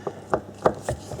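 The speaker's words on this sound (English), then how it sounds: "So obviously now what we're going to do is remove both of those screws." Gold pan-headed screws are backed out of an Audi A4 door speaker, a few evenly spaced sharp clicks from the screwdriver, close and alone.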